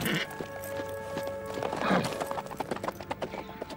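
Hooves clopping rapidly on hard ground with a horse snorting and whinnying, a steady busy rhythm under a low background hum, no clear speech.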